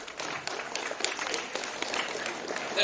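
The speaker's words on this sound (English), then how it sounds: "No need to clap." Scattered applause from an audience at a mentoring and career guidance programme, a patter of claps at uneven rhythm filling the room, moderately faint and slightly uneven in strength throughout.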